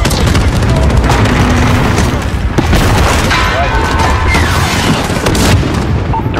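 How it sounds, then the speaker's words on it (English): A missile strike rumbles through a Call of Duty: Modern Warfare (2019) battle with a loud, sustained boom and scattered blasts and gunfire, while voices talk over the dense combat noise. "Copy, missile inbound."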